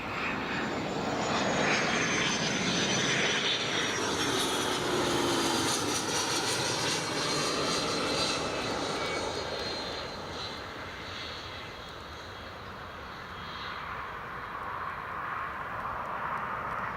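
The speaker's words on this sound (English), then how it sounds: "Sounds like there's a business jet just starting up on the south side" A Cessna Citation business jet's engines run at Newcastle International Airport, a steady, loud broadband roar with a thin descending whine on top, holding for the whole stretch and easing slightly midway before swelling again.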